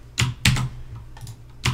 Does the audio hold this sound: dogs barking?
no